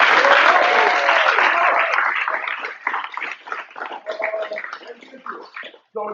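An audience claps loudly at a summit talk, dense applause fading after a few seconds into scattered claps, with some cheers and voices mixed in.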